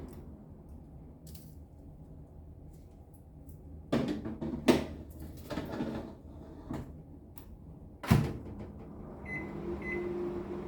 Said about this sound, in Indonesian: sekarang kita panggang karena ovennya juga sudah panas ya guys